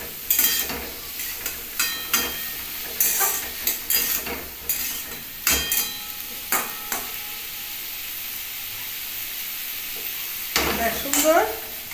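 Bitter gourd and potato curry with green chillies fries and sizzles in a pan, stirred with repeated scraping strokes of a spatula against the metal, close and steady throughout.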